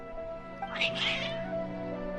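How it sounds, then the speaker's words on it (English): Agitated cats in the Genshin Impact game let out a quick pair of sharp, strained meows, fairly close and brief over a steady soft background hum. "Strange. Your cats seem pretty worked up."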